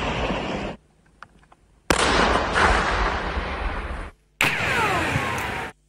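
Rescuers set off controlled detonations of Russian mines in a field in the Dnipropetrovsk region. Loud, roaring blasts sound close, each rumbling for a couple of seconds, with a short quiet gap between them.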